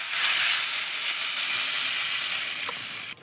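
Eggs dropped into a simmering masala curry with potatoes and cauliflower, giving a steady, bright hiss of steam and sizzle close by that fades slightly before cutting off.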